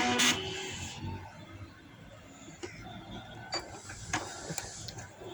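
A sewing machine stitches lace onto a velvet party dress, with a quiet mechanical hum broken by sharp clicks and brief bursts as the fabric is turned.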